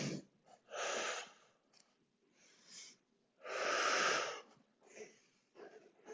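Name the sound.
deep breathing, in through nose, out through mouth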